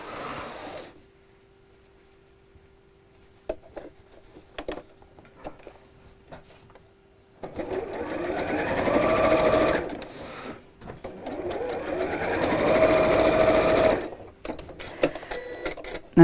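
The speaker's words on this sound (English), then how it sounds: "And we'll sew these 2 pieces right sides together." A sewing machine stitches fabric pieces for an apron, with a faint hum and a few clicks at first, then two sustained bursts of rapid, steady whirring stitching close by, separated by a short pause.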